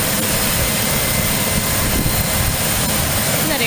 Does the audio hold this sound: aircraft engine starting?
yes